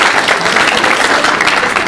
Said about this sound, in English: So a round of applause for you guys.